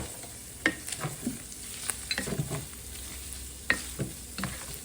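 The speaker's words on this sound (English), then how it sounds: "while the onions are cooking" Onions cooking in a pan for an egg roll in a bowl, a steady close sizzle broken by a few sharp spatula scrapes and taps, with no talking.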